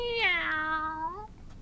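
A cartoon cat in the animated film Alice in Wonderland gives a single drawn-out meow, a clear close voiced call with a rising-then-falling pitch, heard alone without talk.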